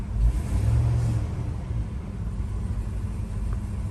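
A Chevy Tahoe engine runs with a low rumble that swells briefly as gas is given, then settles to a steady idle, heard from nearby.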